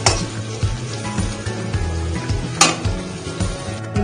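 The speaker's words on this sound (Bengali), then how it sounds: "এই তেলের মধ্যে আমি দুটো ডিম ভুজিয়া বানিয়ে নেব" Two eggs frying for egg bhujia in a little leftover oil, a steady close sizzle with utensils scraping and clinking against the pan throughout.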